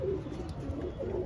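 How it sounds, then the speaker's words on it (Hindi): A Lal Kasni pigeon, a red Kasni breed, coos softly up close in a brief, low rolling murmur that swells and fades twice within about a second. "ये देखिए आप लोग, माशाल्लाह कितना ही खूबसूरत कबूतर है"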